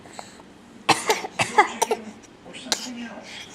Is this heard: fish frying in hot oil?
no